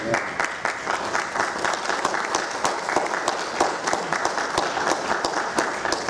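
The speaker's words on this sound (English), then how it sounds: "Can we give them a round of applause?" An audience claps at an academic conference, a dense, steady applause at moderate distance that holds evenly for several seconds with no talking over it.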